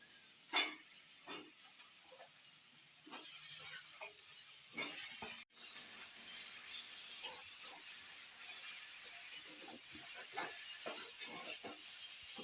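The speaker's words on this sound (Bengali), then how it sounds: "হ্যাঁ একে বেগুনগুলো দিয়ে দিলাম।" Eggplant pieces frying in hot oil with cumin and spices in a home kitchen, a steady loud sizzle and hiss throughout, with a brief cut midway and occasional stirring knocks of a spoon against the pan.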